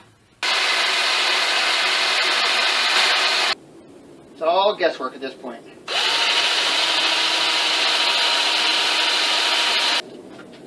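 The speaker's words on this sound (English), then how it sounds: "let's estimate and start drilling some holes" A power drill bores holes in wood for a homemade sandbox toy, two long steady whining runs separated by a short pause in which someone speaks briefly.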